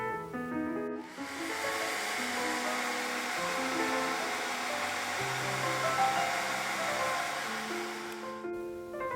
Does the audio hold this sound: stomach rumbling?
no